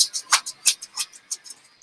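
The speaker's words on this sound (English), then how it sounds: "Oh, that's my dog scratching" A pet dog scratching indoors, a quick run of light scratchy ticks in an irregular rhythm, about a dozen short bursts, close and fairly crisp with nothing else under them.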